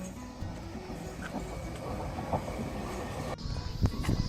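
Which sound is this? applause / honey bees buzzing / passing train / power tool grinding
passing train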